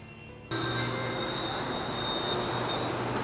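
A subway train in China rumbles along the rails, kicking in abruptly and then holding a loud, steady roar with a faint high whine.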